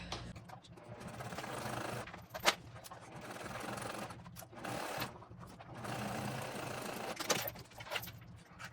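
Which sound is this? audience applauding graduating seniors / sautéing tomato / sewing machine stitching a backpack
sewing machine stitching a backpack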